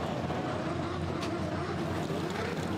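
Rough, droning engine noise from a Formula Drift car with a mechanical fault, heard during pro qualifying in Seattle; a steady, loud mechanical rumble with broadband roar runs throughout without breaks.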